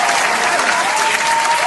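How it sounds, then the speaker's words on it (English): A canned, sitcom-style burst of applause and cheering plays loud and steady, a dense wash of clapping with no breaks. "that's more of like sitcom cheering rather than an entire arena full of people"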